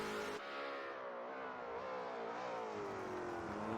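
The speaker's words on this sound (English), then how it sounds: "that is Lieutenant Llama, still making a lot of noise with the Corvette." A Corvette GT3 race car engine with a sound mod in a racing video game, screaming at high revs with a steady, rising and falling whine as it drives on, loud and without talk.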